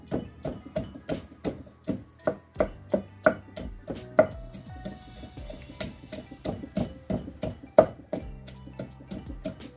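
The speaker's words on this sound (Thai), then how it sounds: "ตำกระเทียมนะเจ้า หอมแดงเจ้า ส่ลงไปเลย" Garlic and shallots are pounded in a mortar with a pestle for northern Thai mango salad, a steady run of dull, hollow thuds repeating about twice a second, close and clear, no voices.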